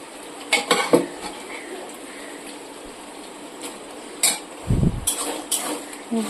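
Potatoes and peas being stirred into spiced oil in a pan, with scattered metallic scrapes and clinks of a spoon against the pan, close and intermittent, plus a low thump near the end.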